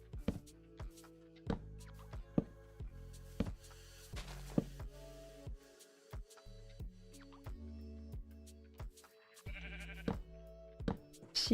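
Sheep in the game Minecraft eating grass, a quiet scatter of short, tonal bleat-like calls mixed with soft clicks and taps, spaced irregularly against near silence.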